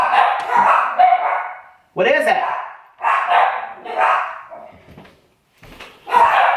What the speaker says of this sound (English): What are my dogs going crazy about?